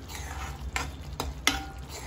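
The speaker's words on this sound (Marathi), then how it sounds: "रस घातलेला आहे, त्याला छान हलवून घ्यायचं" A spoon stirs spinach palak rice in a pan after lemon juice is added, giving soft continuous scraping with a few sharp clinks of metal against the pan, close and quiet.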